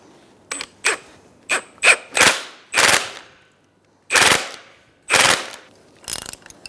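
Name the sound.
ratchet tightening strut mount nut on Toyota Camry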